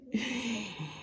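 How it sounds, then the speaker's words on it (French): A sleeping dog lets out a soft, brief whimpering whine while dreaming, quiet and close, lasting about a second and ending with a small catch. "ce que vous entendez, c'est mon chien qui est en train de rêver"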